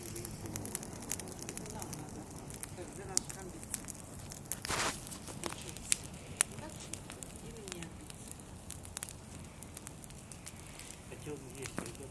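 A campfire burns outdoors with faint, scattered crackles and pops under nearby talking, plus an occasional rustle or step close by.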